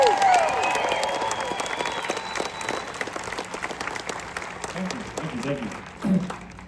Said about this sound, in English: can you please give a huge round of applause everybody for Tim Tracker?